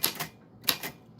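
A typewriter's bell and strikes during a live stream, heard as two pairs of sharp, bright metallic hits close up, with a short pause between the pairs.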